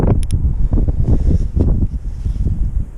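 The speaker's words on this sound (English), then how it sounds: "I do have some wind at my back." Wind gusts batter the microphone outdoors during a fishing session, a loud continuous low rumble and buffeting with no voices.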